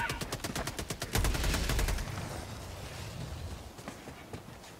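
Rapid automatic fire from an SMG in a video game, a fast even stream of shots for about two seconds followed by lingering rumble and scattered faint pops.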